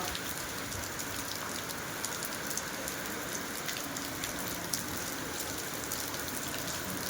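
Steady rain falls in an even, continuous hiss on a rainy day, with no voices and no breaks in the sound.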